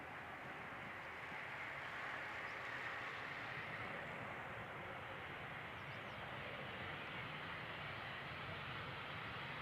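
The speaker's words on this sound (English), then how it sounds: "We have an 11-year aircraft in the field of view." A passenger jet in SkyTeam livery, inbound from Leeds, arriving on runway 18R at Amsterdam Schiphol: a steady, broad roar of engines heard from a distance, swelling slightly then holding, with no talk.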